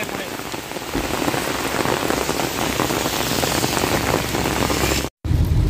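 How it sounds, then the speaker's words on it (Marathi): Heavy monsoon rain in Konkan pours steadily, a dense hiss of drops pounding a surface, loud and constant with a brief cut near the end. "भरपूर म्हणजे भरपूर पाऊस हा"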